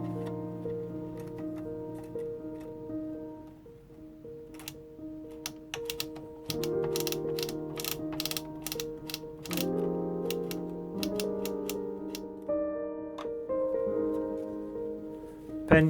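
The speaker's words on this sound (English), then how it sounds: "Insert your punch card." Clicks and clacks from a punch card being inserted into an Empisal Knitmaster 321 knitting machine, a run of sharp mechanical ticks over a steady background tone, close and moderately loud.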